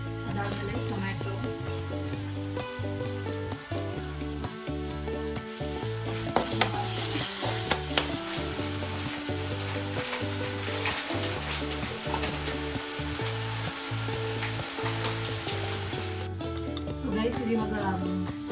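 Browned onion, ginger-garlic paste and green chilies fry in a pan with a loud continuous sizzle and rhythmic scraping strokes under steady background music.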